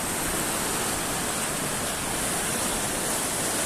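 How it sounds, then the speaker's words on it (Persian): Dense, unbroken roar of the Zarafshan river's rushing current, loud and close, with no voices or other sounds over it. "این دریای زرافشان"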